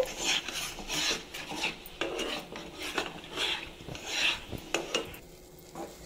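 Semolina being stirred into a dough in a pan, with repeated rasping scrapes and rubbing strokes of a utensil against the metal in an uneven rhythm, close and moderately quiet with no talking.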